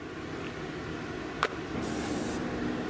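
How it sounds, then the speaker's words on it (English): A can of 3M High Strength 90 spray adhesive hisses steadily and up close while glue is laid on for a custom SUV drawer system, one continuous spray with a brief tap partway through. "For glue, I'm using the 3M High Strength 90."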